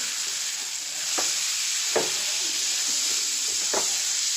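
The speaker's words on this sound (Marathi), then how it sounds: "हे तेल जास्त असते बरं का टाकताना तुम्ही हळू टाका नाहीतर तेल अंगावरही अंगाला पोळ आता हे चांगलं हलवून घ्यायचं" Onion, garlic and coconut chutney fries in hot oil, a steady close sizzle broken by three soft stirring scrapes spaced a second or so apart.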